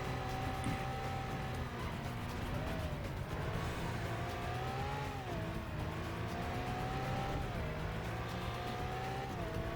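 Video game car sliding through a turn in Stuntman, its engine droning loudly and continuously while tires squeal in long wavering pitches, the screech rising and bending several times across the stretch.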